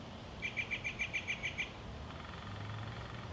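Red-bellied woodpecker giving a rapid series of about ten rolling, churring call notes in an even rhythm, moderately near against soft outdoor ambience, followed by quieter background sound.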